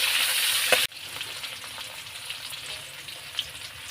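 Onions sizzling in hot cooking oil while pancit bato is being cooked: a bright, loud frying hiss that cuts off abruptly, followed by a quieter, softer sizzle with small pops and the clink of stirring.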